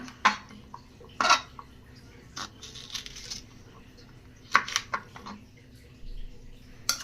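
A knife chops okra on a board for okra gravy in a home kitchen: a few sharp, separate cutting knocks with pauses between them, fairly close and moderately loud, over a quiet background hum.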